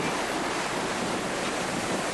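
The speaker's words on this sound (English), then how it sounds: "You can hear sort of the bow wave breaking, sort of fairly big sea running." A yacht surfs down big Southern Ocean swells while its bow wave breaks in a continuous, close, full-bodied roar of rushing water and spray, steady throughout with no voices.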